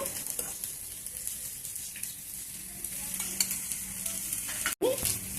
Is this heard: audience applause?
no